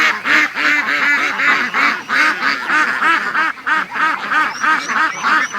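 A flock of raised ducks quacking loudly and close by, with rapid overlapping calls in a steady, busy rhythm that never lets up, and no talking over them.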